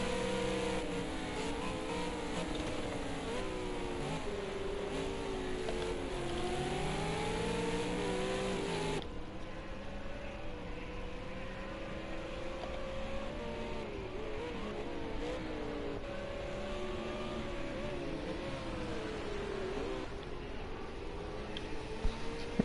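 ARC Supercars race cars at Daytona roaring at high speed, a continuous loud engine drone with rising and falling pitch as cars accelerate and pass, sustained throughout.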